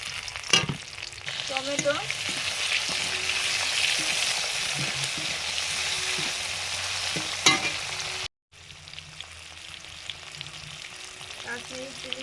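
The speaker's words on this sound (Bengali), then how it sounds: "মশলা কষানো হয়ে গেছে" Turmeric, green chili, ginger and tomato sizzle and fry steadily in hot oil, a continuous close crackle with occasional stirring scrapes and a brief pause near the end.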